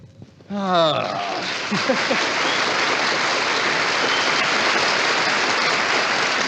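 A studio audience breaks into broad, steady applause during a smile contest on a vintage Australian radio song program; a short voice comes first, then the clapping sweeps in and holds at full strength.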